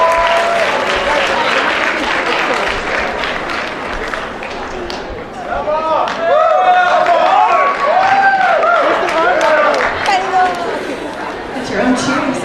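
Applause and cheering rise from a school audience at a freshman awards ceremony, steady clapping under loud whoops and shouts that swell midway and continue as a voice talks over the noise.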